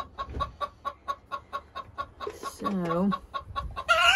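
Hens cluck in a coop where white leghorns and other laying breeds are kept, a regular series of close clucks with a drawn-out squawk in the middle, while a person speaks briefly.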